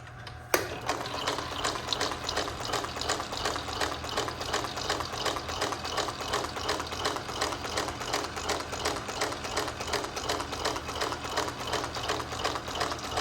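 A Nilson four slide wire-forming machine runs without wire feed, giving a fast, even mechanical clatter that repeats steadily for about thirteen seconds after a sharp start, close and moderately loud, with no talking.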